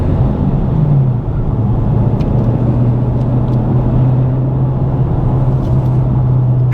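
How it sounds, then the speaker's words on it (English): A Dodge Challenger Scat Pack engine rumbles loud and close in a steady, deep drone with a slight rise in pitch near the start. There is no talking. "Let me rev it up a little."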